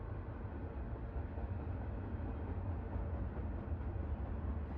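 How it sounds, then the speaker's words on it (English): Recorded train noises played back during a stream, a steady broadband rumble like rolling railcars, continuous and moderately loud with no talk. "Okay, where are my train noises?"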